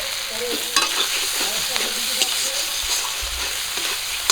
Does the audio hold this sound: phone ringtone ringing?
no